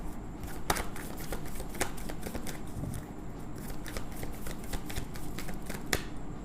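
Tarot cards are shuffled and drawn, giving quiet, rapid papery riffling and flicking with several sharper snaps of cards being laid down, heard close and alone.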